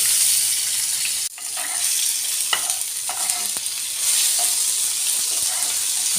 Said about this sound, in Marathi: छानपैकी तेलावर परतून घेऊन राहिले वाटण करण्यासाठी मी